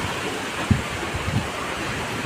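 Heavy rain with wind in a village: a dense, continuous broadband wash of noise with a few low thumps, steady and enveloping, no voices.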